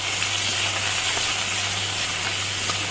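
Okra, cut into long pieces, frying in hot oil in a pan for a ladies finger curry, giving a steady, even sizzling hiss with a low hum beneath and no break or talking.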